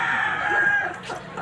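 A chicken calls loudly and close for a brief moment, a single drawn-out crowing or clucking phrase with no other sounds.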